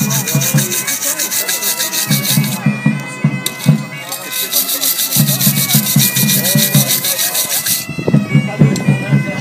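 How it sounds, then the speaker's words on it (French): A wire brush scrubs scale off hot forged steel in loud, rapid back-and-forth rasping strokes, broken by brief pauses and clanks. "Je brosse pour enlever les calamines."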